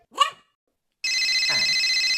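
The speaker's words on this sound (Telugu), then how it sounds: "ఇప్పుడు ఎవరు ఫోన్ చేస్తున్నారు?" Following a brief vocal yelp and a second of silence, a phone ringtone starts and rings continuously and loudly to the end. A short falling sound cuts across it once.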